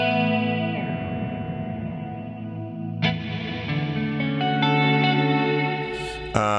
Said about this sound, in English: make the feedback of the reflections longer.